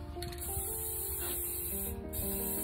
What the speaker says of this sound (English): Got a little spray paint.